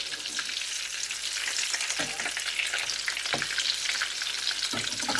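Pieces of cod coated in coconut and herbs fry in hot oil, a close, continuous crackling sizzle with a few brief stirring or turning sounds and no talk.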